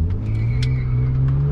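A BMW 320i E36 six-cylinder engine revs steadily and loudly up close, its harmonic drone holding through the short burst with a faint metallic ringing on top from the correct exhaust.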